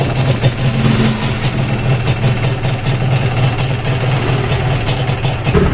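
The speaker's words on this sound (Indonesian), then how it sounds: "ini suara mesinnya ya, sangat kasar" A rough, rumbling Kawasaki Ninja R motorcycle engine idles steadily close by, with a coarse, shaking texture throughout and no voices.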